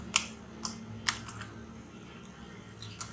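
A few sharp, separate keystrokes on a computer keyboard, spaced irregularly and close, with no talking.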